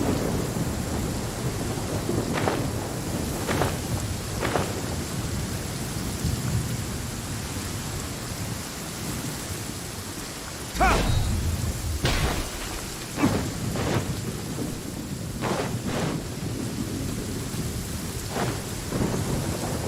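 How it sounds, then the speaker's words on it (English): Steady heavy rain from the Genshin Impact video game, with several loud thunderclaps and rumbles breaking through at intervals over a continuous wash of falling water, no voices. "Rain."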